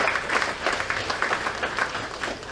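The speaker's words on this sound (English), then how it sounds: "So let's give them a round of applause" An awards event audience gives a round of applause for the sponsors, many hands clapping in a full, steady wash for a couple of seconds, close and fairly loud with no speech.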